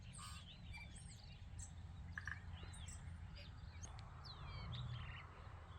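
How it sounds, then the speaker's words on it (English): Tui, a native New Zealand bird, sings on a farm with liquid whistled phrases and chirps repeating throughout, moderately near, over a steady low outdoor rumble. "I just sit and I listen to the tui. A beautiful native bird."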